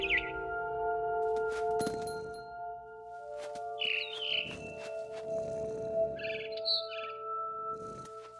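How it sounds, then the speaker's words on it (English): A barn swallow in What Remains of Edith Finch gives two short bursts of chirping over sustained game music, both clear and close. "It was a barn swallow going back to her nest."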